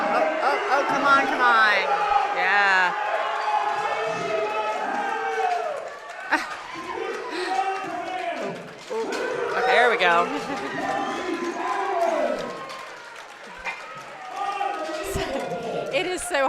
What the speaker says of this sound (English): It is so hard to hear when the crowd gets that loud.